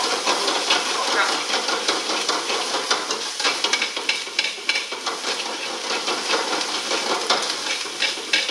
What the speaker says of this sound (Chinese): 椒盐小料下锅啊，配料下完锅以后啊